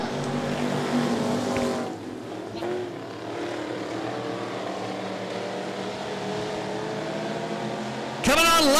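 Race cars at full throttle on a racetrack, a continuous loud engine roar with pitch sweeps as cars pass, a louder surge near the end, with a commentator talking over it.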